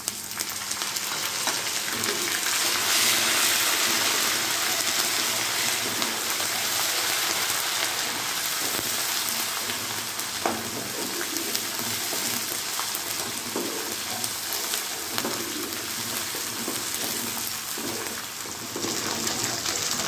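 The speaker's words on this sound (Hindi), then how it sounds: "लहसुन अदरक का पेस्ट भी फ्राई हो गया है" Garlic-ginger paste fries over high flame with browned onions for vegetable rice, producing a dense, continuous rain-like crackle and sizzle that stays fairly even throughout, with no talking.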